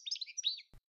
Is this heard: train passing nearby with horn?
no